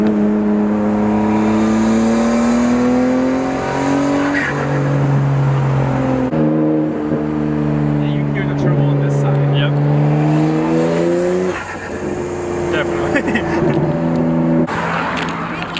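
Nissan Skyline R34 GTR engine heard up close, a loud sustained drone that shifts pitch as it downshifts, then climbs again under a short pull of acceleration, continuous for the whole stretch.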